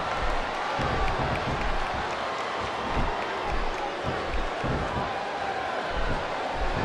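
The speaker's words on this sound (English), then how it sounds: "I love hearing the crowd come alive" Constant roar of a large wrestling arena crowd in WWE SmackDown vs Raw 2007, a dense, even wash of cheering and applause with occasional thumps, holding steady throughout.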